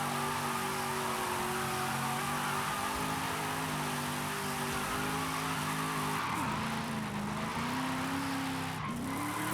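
Mustang drifting in Forza Horizon 5: the engine revs hard and holds high in fourth gear while tires squeal through long slides, continuous and loud, and the pitch dips twice as the car transitions.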